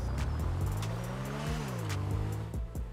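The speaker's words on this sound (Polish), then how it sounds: "Tak, samochód bardzo nisko zmienia sobie biegi." Benefactor Krieger supercar engine in GTA 5 with an automatic gearbox, a loud continuous drone close up, rising in pitch and then dropping at quick gear shifts, with faint tire noise and no talking.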